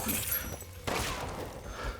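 A burst of rapid gunfire in Resident Evil Village followed by a sharp crack and a few more shots, loud and close.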